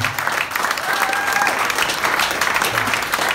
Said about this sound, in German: Applaus, dass du da warst